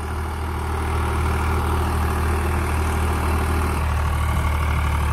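An old-model Swaraj tractor engine runs steadily with a 7-foot Landforce rotavator, giving a continuous low, heavy drone at close range with no break and no talk over it.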